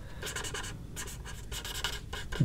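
Pencil crayons scratch across paper while shading a cartoon baby drawing, a steady close-up rasp coming in repeated bursts of strokes with brief pauses between them, no voices present.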